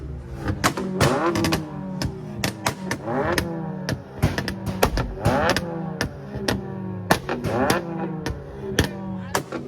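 Rapid, irregular sharp pops and cracks from a modified car exhaust backfiring at a car and bike show, repeating in bursts over a low engine rumble, loud and close.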